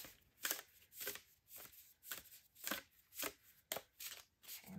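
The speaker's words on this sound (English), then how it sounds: "I'm going to pull one more astrology card for you." Cards from an astrology deck riffle and slide against each other in a quick series of soft, papery shuffling strokes, close and fairly quiet, with no talking.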